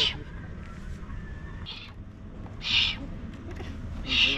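A two-month-old young owl gives repeated short, harsh calls, three or four bursts spaced about a second apart, close and fairly loud over a noisy outdoor background.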